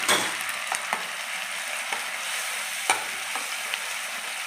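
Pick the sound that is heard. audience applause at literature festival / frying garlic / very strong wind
frying garlic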